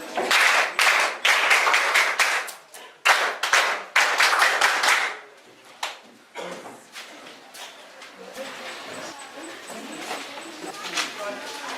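A group claps hands in loud, quick, irregular bursts, then the clapping gives way to murmuring voices and room noise.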